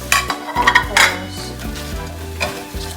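Previously fried chicken sizzling in a pan for buttered chicken, with a utensil stirring and clinking against the metal over a steady close frying hiss.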